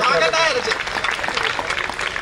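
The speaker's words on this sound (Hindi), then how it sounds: "एक बार ताली बजाएं" Audience at a college kavi sammelan poetry event claps in a brief burst of applause, close and dense, under a poet's voice.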